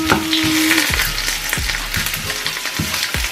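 Garlic frying in a pan, a continuous loud sizzle with occasional scraping stirs and soft knocks.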